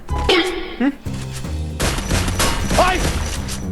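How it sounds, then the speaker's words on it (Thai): Rapid bursts from the Plasma-X gun in a shooter video game, a dense crackling barrage that swells in the second half, mixed under someone talking. "ปืนพลาสมามันไม่เหมาะยิงต่อเนื่องนะครับ"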